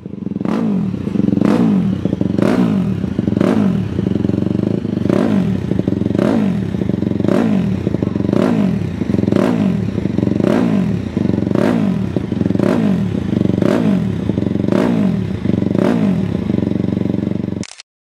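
A single-cylinder Moto3 racing motorcycle engine, rated around 50-60 horsepower, revs loudly and close in a steady series of rhythmic rising bursts, about one per second, with no voices.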